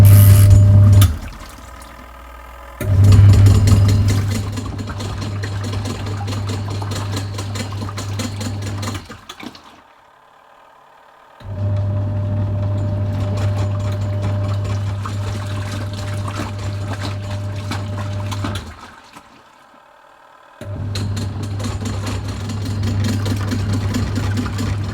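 A Leisurewize Portawash portable washing machine runs its normal cycle with a loud, steady motor hum and sloshing water, stopping briefly twice before starting again, close and with no voices.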